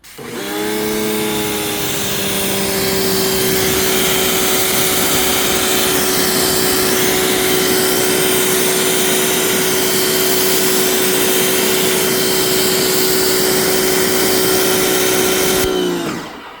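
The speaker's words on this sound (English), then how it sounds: "You notice that when I release the trigger, the pump turns off." An electric pump runs while the trigger is squeezed, giving a loud, steady whine with a constant tone for about fifteen seconds at close range, then stops abruptly with no talking.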